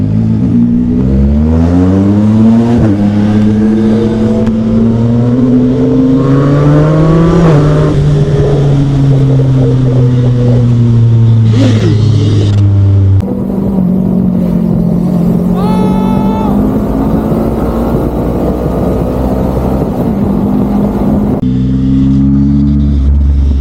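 A Yamaha XSR 900 motorcycle engine roars loud and close while overtaking, revving up and down through the gears in long sweeping pitch rises, with brief shifts between them.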